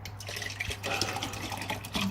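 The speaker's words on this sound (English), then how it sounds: "hold on, let me just get some water." Water runs from a tap into a glass, a steady liquid pour with a few brief clinks and splashes, close by and moderately quiet with no talking.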